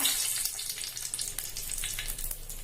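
Dried red chilies temper in hot coconut oil for a Kerala-style pulinkari, giving a close, steady sizzle with crackling pops throughout and no talk.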